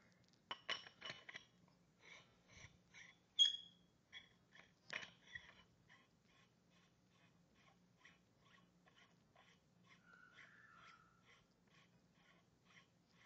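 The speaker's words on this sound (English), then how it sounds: "So I'll just put the gun together." A paintball gun, a G4 model, being put together by hand in a quiet room: a few sharp metallic clicks and clinks early on, then sparse light ticks and small handling taps, faint and close.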